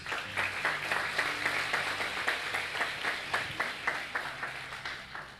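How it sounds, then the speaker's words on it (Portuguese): A church congregation claps together in a steady, rhythmic pulse at moderate volume, with no voices over it. "Aplauda Jesus."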